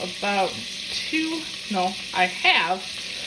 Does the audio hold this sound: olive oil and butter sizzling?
yes